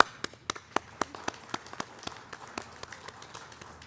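Sparse clapping from a small crowd at a National Honor Society induction, a dozen or so distinct claps in a loose, uneven rhythm, fairly close and without voices.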